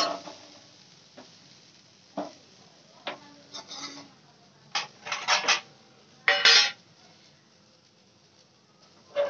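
Scattered metallic clinks and scrapes of pots and utensils as fried yardlong beans are taken off the pan, several short bursts of clatter with quiet gaps between them, close by.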